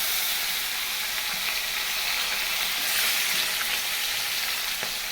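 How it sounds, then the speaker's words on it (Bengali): Tilapia fish frying in hot oil in a pan, a steady dense sizzle that holds close and loud throughout with small crackles and no talk. "মাছ ভাজা চলছে।"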